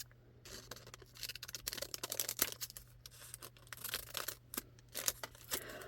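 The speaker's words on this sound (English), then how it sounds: "Just go ahead and cut this little bag open so that I can use the name here" Small coffee bag being cut open with scissors, a close run of crisp snips, crinkles and tearing rustles of thin packaging, no voices.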